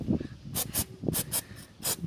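A degreasing cleaning spray is sprayed onto a scooter during an oil and oil filter change, coming as several short, close hissing bursts with pauses between them.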